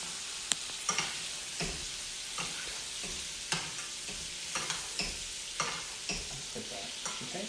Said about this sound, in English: We're going to allow this butter to brown, and it's going to give it a little bit of a nutty